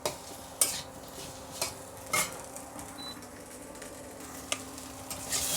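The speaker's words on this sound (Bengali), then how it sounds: "একটু ফ্রাই করে নিলে টেস্ট বেড়ে যাবে, সেই জন্য আমি একটু এটাকে কড়াই নেড়ে নেব" Potatoes fried and stirred in a kadai, with a soft continuous sizzle broken by several sharp scraping strokes of the spatula at irregular intervals, close and fairly quiet.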